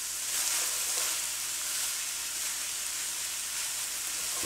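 Vegetables sautéing in melted butter for a shepherd's pie, giving a continuous fairly faint hiss and crackle with no distinct stirring strokes and no voices.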